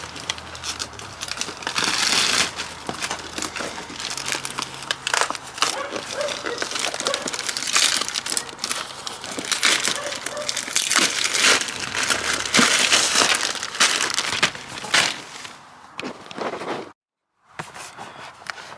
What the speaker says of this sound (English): So this is the package. We'll rip it open, have a look at the boxes.